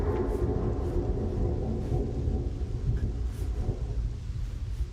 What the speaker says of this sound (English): That didn't sound like normal thunder. That was very metallic sounding.